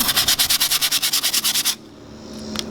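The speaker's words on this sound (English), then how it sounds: "we're gonna sand all that down with probably some 80 grit sandpaper" Close, rhythmic rubbing of 80 grit sandpaper over wood edges on a DIY frame, about a dozen even back-and-forth strokes that then stop, leaving a quiet room.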